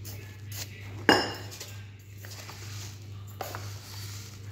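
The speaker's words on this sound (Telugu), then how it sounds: "సోపు గింజలు వేస్తున్నాను 2 చెంచాలు సోపు గింజలు" Two spoonfuls of fennel seeds dropped into a bowl while mixing vada batter give a single sharp clink of spoon on dish, then a few soft taps and rustles over a steady low kitchen hum.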